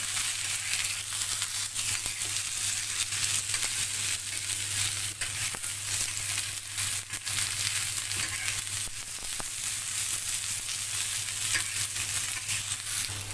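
Chopped onions fry in about two tablespoons of oil, a dense, steady sizzle with a faint low hum beneath, continuous and close throughout with no talking.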